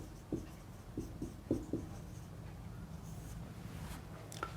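Pen strokes on a page while examples are jotted down, a few soft scratchy taps clustered early, then faint continuous scribbling under a quiet room hum.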